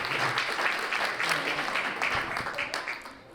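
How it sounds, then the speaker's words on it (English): Applause from the audience at a women's world team pool tournament, a dense patter of many hands clapping throughout, fairly close and tapering slightly at the end, with some speech mixed in. "let's keep that applause going for your runner-up, England"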